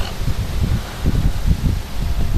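Strong evening wind during storm Kirk in Clermont-Ferrand, with gusts reaching about 70 km/h, roars as a loud, continuous low rumble that swells and eases in quick gusts, with no voices.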